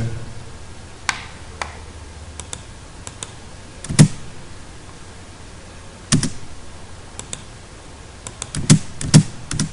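Sparse keystrokes on a computer keyboard entering commands in AutoCAD Civil 3D, a few quiet single taps and a couple of sharper clustered presses over a faint hum, with no talk.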